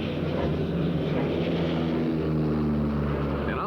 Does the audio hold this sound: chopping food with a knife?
no